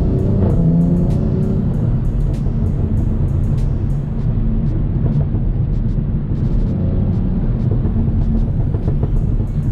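A BMW M340i on the move drones with a deep exhaust note while sharp pops and crackles burst repeatedly from the tailpipes, loud and close over the engine's steady rumble.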